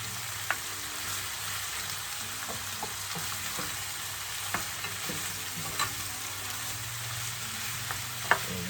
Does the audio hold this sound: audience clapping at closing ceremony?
no